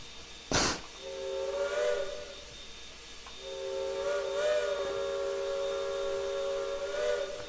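A steam locomotive whistle in the Trainz 2022 train simulator, on an SP/PCRy/NCO 4-6-0, blows two long, steady blasts with a brief gap between them, over a constant background hiss.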